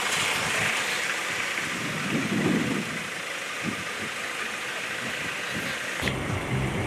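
Heavy downpour at an outdoor used-car market in Baku, a dense steady hiss of rain with a low engine idling beneath it, no talk.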